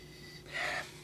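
A close, brief sniff of a glass of red wine during a tasting, a single short nasal inhale lasting well under a second against a quiet room.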